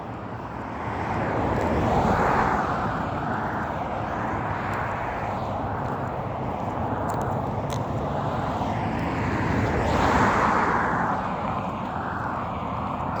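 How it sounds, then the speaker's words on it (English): Cars pass near a track field, their broad rumble swelling and fading in two waves with a steady roadway whoosh, moderately loud. "I'm sure you guys are hearing the cars or whatever."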